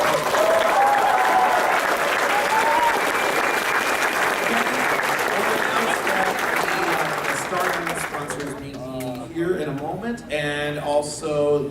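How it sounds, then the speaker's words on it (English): A large audience at a fan convention claps loudly and steadily, the dense applause thinning toward the end as a voice begins speaking over the fading claps. "I want to give them another round of applause for that"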